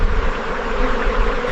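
A swarm of bees buzzing loudly and close, a dense continuous drone circling overhead with no break and no voices.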